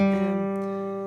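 Acoustic guitar fingerpicks a verse pattern, a single sustained, ringing chord that fades gently over a second, close and moderately quiet.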